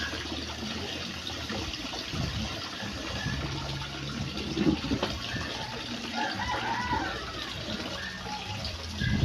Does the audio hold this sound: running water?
yes